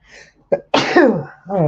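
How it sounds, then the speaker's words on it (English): A man sneezes once up close, a short sharp burst followed by a drawn-out voiced exhale, with a soft breathy intake before it. "And the sneeze is coming back. Here it comes."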